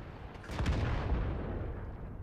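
Tank cannon fire in the video game World of Tanks, one heavy booming shot with a long rumbling tail, close and loud with no talking.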